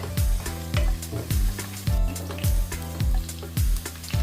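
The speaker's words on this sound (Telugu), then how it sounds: "ముందుగా కట్ చేసి పెట్టుకున్న ఆనియన్స్ బాగా ఆయిల్లో ఫ్రై చేద్దాం." Chopped onions frying in oil for veg biryani, a loud sizzle punctuated by regular, evenly spaced thuds of a spoon stirring against the pan.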